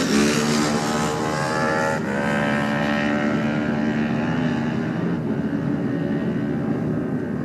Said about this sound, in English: Hear him going through the box and the gear changes as Stefano Benetti's away on another pattern